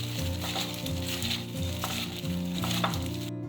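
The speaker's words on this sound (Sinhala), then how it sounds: "ඊට පස්සේ මේ සේරම ටික හොඳට කලවම් කරගන්න ඕනේ" Okra (lady's fingers) sizzles steadily as it stir-fries in hot oil in a pan, a continuous close crackle with a low, steady tonal hum underneath.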